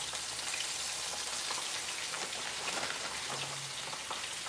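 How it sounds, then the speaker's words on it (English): Chicken legs and flats fry together in a pan, giving a loud, steady, dense sizzle with crackling pops throughout and no talk. "Yes, I'm frying some chicken."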